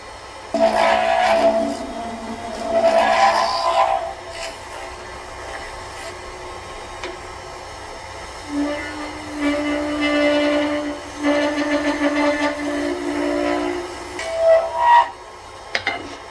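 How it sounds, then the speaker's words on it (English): A square carbide wood-turning tool shapes a resin pen blank spinning on a lathe, giving a steady whirring hum with rising and falling scraping whines as the cutter bites in and lifts off. "I'm going to take my square easy wood tool with a carbide"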